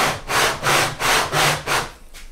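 Rhythmic back-and-forth sanding on the wooden sides of an acoustic guitar, five steady strokes close to the microphone, each a broad raspy swish, fading on the last pass.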